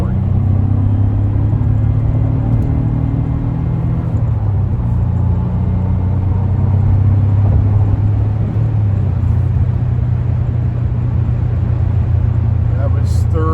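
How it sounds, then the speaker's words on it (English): A 1989 Maserati 430 with a five-speed manual climbs through third, fourth and fifth gear onto a highway, its engine drone heard loud from inside the cabin with rising pitch between shifts. "That was third, fourth, and fifth gear, accelerating onto a highway."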